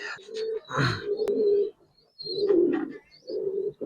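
Giribaz pigeons coo inside a loft in several low, throaty phrases with short pauses between them, close and fairly loud, with faint higher chirps above.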